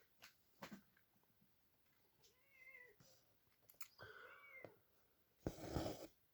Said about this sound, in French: le chat vient de faire éruption, il a décidé de miauler dans tous les sens